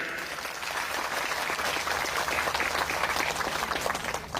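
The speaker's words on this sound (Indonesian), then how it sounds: "Tepuk tangan." Audience applause at an evening religious sermon event in Ajung, a dense, steady wash of clapping from a crowd that holds at a constant level throughout.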